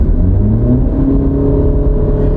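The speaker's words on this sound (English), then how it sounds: "We'll take her down to 40 and we'll floor it." A car engine is floored from about 40 mph in a highway passing test, giving a loud, steady roar whose pitch climbs continuously as it accelerates, close up and with no talk.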